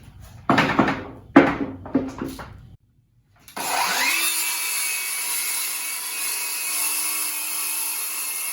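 A hand saw runs through a clamped piece of wood in a few short rasping strokes, then goes quiet before a steady high-pitched whine of a motor takes over and holds to the end.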